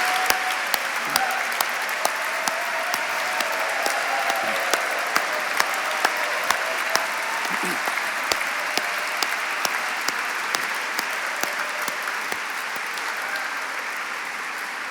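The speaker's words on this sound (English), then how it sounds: "So please, I'm asking our staff and board to stand so you can give them a big round of applause." A large audience at an awards gala keeps up a long, even round of applause, dense and sustained, with sharper individual claps standing out near the front.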